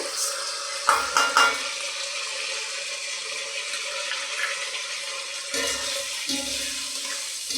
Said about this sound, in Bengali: এইবারে মশলাটা পুরো ভাজা হবে